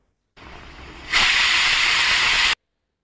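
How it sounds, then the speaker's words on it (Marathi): A kitchen pressure cooker releases its whistle as one sustained hissing blast of steam, starting softer and then jumping louder for over a second before stopping abruptly, close by and with no talk. "आता कुकरची एक शिटी झाली,"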